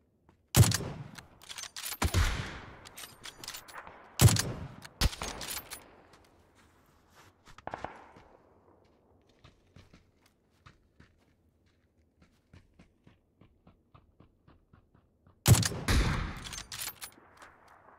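Video game gunfire comes in loud bursts of rapid shots, several volleys separated by quieter stretches of faint clicks and footsteps, with one final burst near the end.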